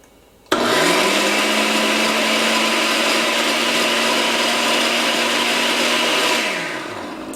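A blender switches on abruptly and purees cauliflower Alfredo sauce, a loud, steady motor whine holding for about six seconds before winding down as it is switched off.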